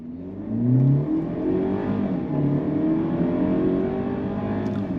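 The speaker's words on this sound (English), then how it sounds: "So that 4-speed, that 4-cylinder turbocharged engine is a little noisy." A 2025 Mercedes-Benz GLE 350's turbocharged four-cylinder engine accelerates, its droning pitch climbing through a gear change and rising again, steady and moderately loud from inside the SUV.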